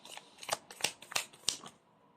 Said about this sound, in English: You saw me shuffle as always.